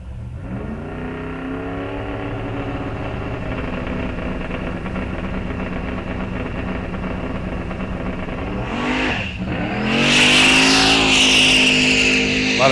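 A turbocharged 1968 Chevrolet Nova drag car runs down the Rock Falls Raceway track. Its engine gives a loud, sustained roar with a steady droning pitch, then swells into a louder, harsher blast near the end.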